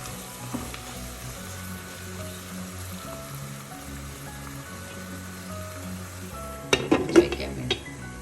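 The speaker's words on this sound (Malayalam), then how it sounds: "ഇടയ്ക്ക് തുറന്നൊന്ന് നമുക്ക് ഇളക്കി കൊടുക്കാം." Onions frying in a pan for quail egg curry hiss quietly under a low background hum, then a short burst of spoon-against-pan stirring clatters near the end.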